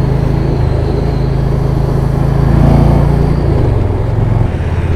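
A 2018 Yamaha Venture touring motorcycle cruises along, its engine a steady low drone with a slight swell in the middle, heard alone without talk.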